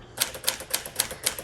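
Keys strike steadily on a 1959 Alpine Blue Sterling manual typewriter, a quick run of sharp, close clacks at an even typing pace.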